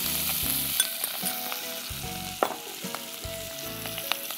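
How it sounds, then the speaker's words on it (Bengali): Mushrooms fry lightly in a pan for a creamy mushroom soup, giving a steady close sizzle broken by scattered clicks and scrapes of stirring. No one speaks. "মাশরুমটা একটু আমরা আগে দিয়ে দিব যেন একটু হালকা ভাজা হয়ে যায়"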